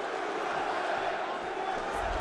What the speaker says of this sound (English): Buffalo crowd getting behind the All-American early